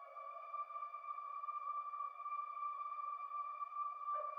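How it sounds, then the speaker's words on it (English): A sustained string drone from an Analog Lab synth patch holds one steady tone with soft harmonics, even and unbroken throughout, with no other sounds. "And I added a string drone,"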